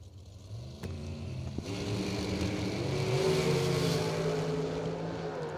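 A Koretsky nitro dragster at a drag strip event idles, then launches into a loud, sustained engine roar that builds and holds to the end, with no talking.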